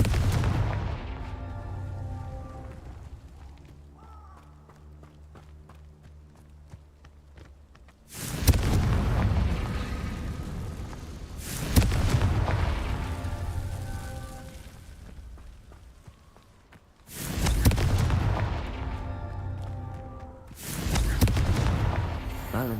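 Confringo spell blasts in the Hogwarts Legacy video game burst out as four loud, sudden booming explosions spaced several seconds apart, each decaying into a rumbling tail over quieter game sounds.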